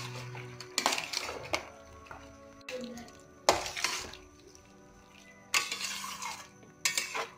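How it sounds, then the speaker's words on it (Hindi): Paneer being stirred in a pan for dhaba-style chilli paneer, with intermittent metallic scraping and clattering of a spoon against the pan in several bursts, fairly faint with quiet gaps between. "अब इसमें डालेंगे पनीर और इसको अच्छी तरह से चला लेंगे।"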